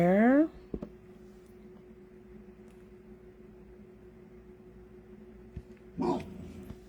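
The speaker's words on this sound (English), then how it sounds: "dog who barks like he's going to eat somebody" A small dog barks in a short sharp burst at the start and again briefly near the end, with a faint steady indoor hum in between.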